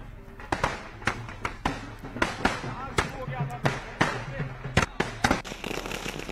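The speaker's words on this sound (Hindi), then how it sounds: "बीजेपी कार्यकर्ताओं ने कार्यालय में जश्न मनाया और आतिशबाजी करते हुए" Firecrackers set off by celebrating BJP party workers at a party office pop in a rapid, irregular string of sharp, loud cracks over a constant background rumble.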